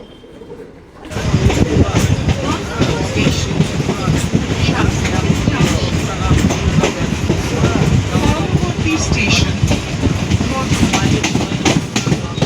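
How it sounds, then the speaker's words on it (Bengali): A train heading to Santipur station rolls along with a loud, continuous rumble and rhythmic wheel clatter close by, starting after a brief quieter moment and carrying on steadily throughout. "আর এই যে আমাদের ট্রেন।"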